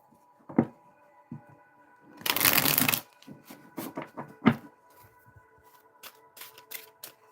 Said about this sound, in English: Make sure they're shuffled up real good.